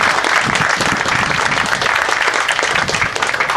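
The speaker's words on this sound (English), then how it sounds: "So can you please give yourselves a round of applause?" A crowd at an outdoor dedication ceremony for the Ethiopian Cultural Garden in Cleveland claps steadily in sustained, dense applause, loud and continuous throughout without pause.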